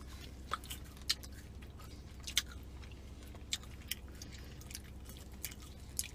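Close, quiet chewing of garlic fingers pizza, with soft crunchy bites and small wet clicks scattered irregularly through the clip over a low steady background hum.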